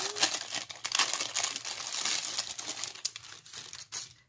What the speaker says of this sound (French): Alors, on va déballer.